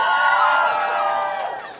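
An excited crowd of fans cheers and screams with high, overlapping voices, loud at first and then fading over a couple of seconds.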